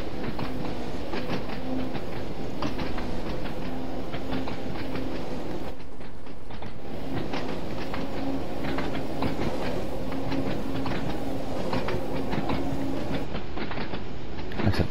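A Train Sim World 2 train on the Isle of Wight line rumbles along the rails with rhythmic clickety-clack from the wheels and a steady low hum, continuous and close, with no voices.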